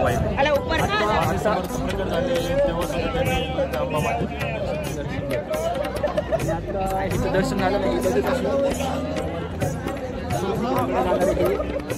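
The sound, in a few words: huge crowd chattering at Ambaji temple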